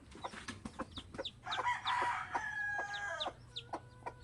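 Chickens and chicks on a home yard give rapid clucks and high peeping chirps close by, with a brief louder squawking burst partway through, and no talking.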